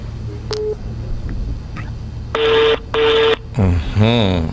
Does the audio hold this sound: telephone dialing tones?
yes